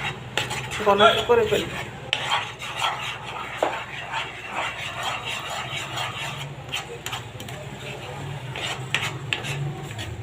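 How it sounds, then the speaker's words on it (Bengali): Chhana being stirred with condensed milk in a pan for kachagolla sweets: a metal spoon repeatedly scrapes and clinks against the pan in an uneven rhythm, close by, with brief speech at the start. "আমি এবার ভালো করে লাড়তে হবে।"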